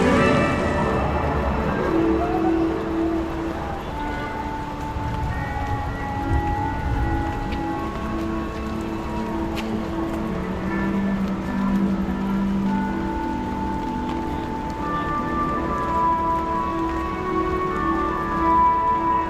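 A 40-metre indoor waterfall inside Singapore airport roars as a dense, steady rush of falling water, loud and continuous throughout, with a faint hum of the hall around it.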